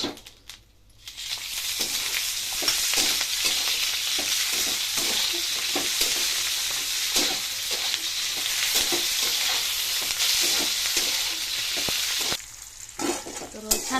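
Ingredients fry in oil for a green chili chicken curry, producing a loud, sustained sizzle with scattered crackles and stirring sounds, close and continuous until a short dip near the end.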